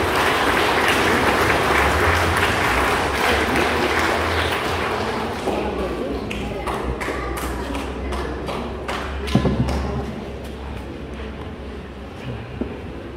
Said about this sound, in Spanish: Damos un fuerte aplauso a este nuevo esposo.